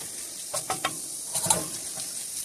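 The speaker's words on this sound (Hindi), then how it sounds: "तो अब इसमें हम इसको रोस्ट करेंगे" Cheesesteak meat roasting in about three spoons of cooking oil, a soft sizzle broken by a few quick scraping stirs of a utensil against the pan.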